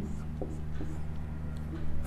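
Pen or chalk scratching out numbers by hand, soft short strokes and taps near the microphone over a steady low electrical hum, with faint whispery background.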